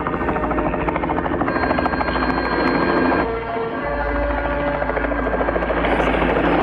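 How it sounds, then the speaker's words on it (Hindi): A helicopter's loud, steady rotor chop and engine drone fill the scene, close and continuous throughout. "अब हेलीकॉप्टर से ढूंढ रहे हैं।"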